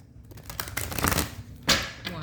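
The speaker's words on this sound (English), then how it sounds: "We're going to shuffle the cards 5 times for the sign of Leo." Tarot cards being shuffled by hand, a quick run of crisp riffling and flicking bursts close up, with a short louder snap near the end.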